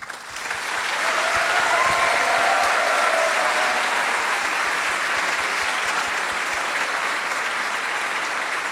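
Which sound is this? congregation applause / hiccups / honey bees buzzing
congregation applause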